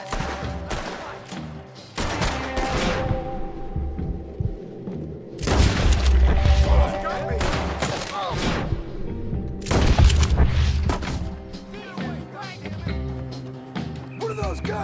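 Gunfire in Red Dead Redemption 2, repeated loud bursts of shots and booming blasts in a chaotic shootout, with brief quieter gaps between volleys.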